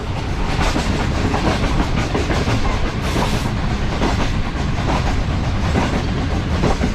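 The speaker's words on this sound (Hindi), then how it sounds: "ट्रेन हमारी जो है चकलाला रेलवे स्टेशन पर अप्रोच बना रही है।" A Green Line train rolling into Chaklala railway station near Islamabad, heard from on board as a loud steady rumble with rhythmic clickety-clack of wheels over rail joints and no talking.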